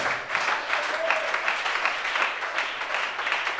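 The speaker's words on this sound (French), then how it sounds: "Oh, acclame bien." A church congregation in Gabon applauds and cheers in acclamation, a dense, steady wash of clapping hands and voices that carries on without a break, fairly loud and close.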